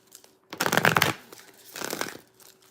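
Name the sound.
shuffling tarot cards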